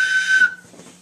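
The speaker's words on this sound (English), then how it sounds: "this is my whistle" A single whistle blown in one sustained, shrill, steady tone for about half a second, then cutting off abruptly, with quiet room sound and a faint low hum afterward.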